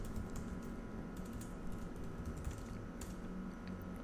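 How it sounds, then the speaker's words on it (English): Fingers type on a computer keyboard at a command line, a fast, continuous patter of close key clicks over a low background hum, with no one speaking. "Now, if I just type ls here"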